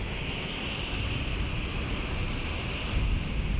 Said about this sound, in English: Along with that, there is some rain and wind noise.